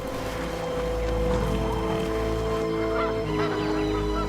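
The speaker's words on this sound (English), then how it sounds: "By what means do these wild geese make such long journeys with such precision of place?" Wild geese honking near a shore in Canada, a dense, continuous chorus of many overlapping honks from a large flock, steady and fairly loud throughout with no talk.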